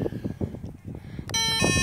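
A voice talks briefly, then a bright electronic beep-tone sequence sounds from an e-bike alarm key fob as it arms, short and close, over faint background noise.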